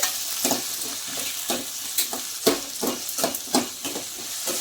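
Chopped tomato frying and being stirred in a pan while preparing rava idli batter, with steady sizzling broken by repeated scraping stirs of a spoon against the pan, close and moderately loud, no voices.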